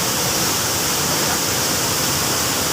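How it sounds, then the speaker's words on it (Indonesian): Twin waterfall at Bangunrejo, Solok Selatan, about eight metres high, roaring as a loud, steady, dense wash of falling water with no breaks. "Inilah teman-teman air terjun Kembar yang ada di Bangurejo"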